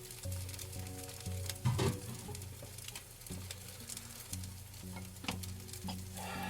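Eggs fry with a steady sizzle while being stirred and scraped around a pan for a breakfast quesadilla, with repeated utensil clatters and louder scraping bursts throughout, up close and with no talking.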